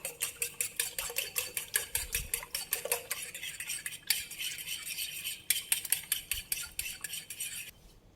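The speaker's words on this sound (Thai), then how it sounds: "เราก็ตีเหมือนเราทำไข่เจียว แต่ว่าไม่ต้องออกแรงมาก" Eggs being beaten in a bowl for steamed egg with spring onion make a fast, even clatter as a utensil taps the sides, a close rhythmic clinking run that breaks briefly and then resumes.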